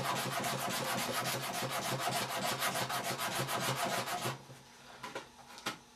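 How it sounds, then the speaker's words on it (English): Pieces of ABS plastic armour are sanded by hand in fast, steady back-and-forth rasping strokes, loud and close, before the rubbing breaks off into a few scattered scrapes. "I'm also going to sand the back"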